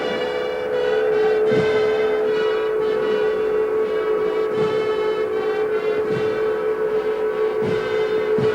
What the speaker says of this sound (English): And the sirens sounded over Moscow